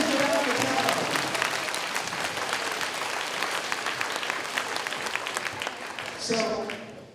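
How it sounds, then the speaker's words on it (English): A school assembly audience for Veterans Day claps steadily in a hall, a broad even patter of many hands with voices murmuring underneath, fading toward the end as a speaker's voice cuts in. "Can we have a big round of applause for Mr."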